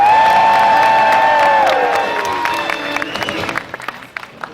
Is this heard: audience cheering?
yes